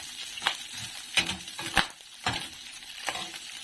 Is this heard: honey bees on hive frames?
no